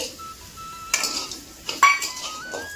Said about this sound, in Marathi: आता शेंगदाण्याचं कूट टाकते.